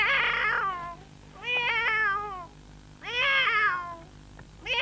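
A boy imitates a cat meowing outside at night, giving three long drawn-out wailing meows separated by pauses, close and loud over a low background hum.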